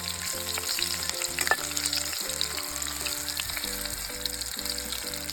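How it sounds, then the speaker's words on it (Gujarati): Whole parboiled potatoes fry gently in oil for a Gujarati dry curry, giving a steady, moderately soft sizzle that runs unbroken for several seconds with no one talking. "પછી આપણે તેલમાં ફ્રાય કરવાના છે."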